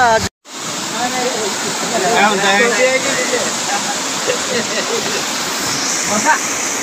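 Rautwadi waterfall at Dajipur gives a constant loud roar of falling water after a brief dropout near the start, with people talking over it.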